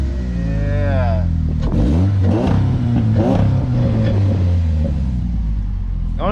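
A rebuilt Chevy Cobalt SS revs loudly and close up, its exhaust roaring through several throttle blips that rise and fall over a deep steady idle rumble.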